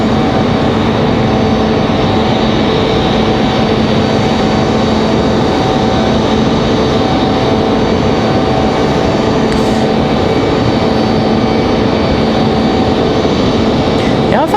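A Delta Boeing 737-900 arriving from Atlanta at Raleigh-Durham International, its steady, loud jet roar filling the whole stretch without letting up.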